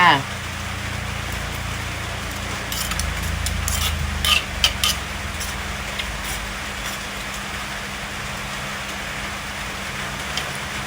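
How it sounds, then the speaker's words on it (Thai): Steady rain hisses on a surface close by, a continuous wash of patter with a few louder drops, while a person talks over it. "ฝนตกแล้วค่ะฝนตกแล้วค่ะ"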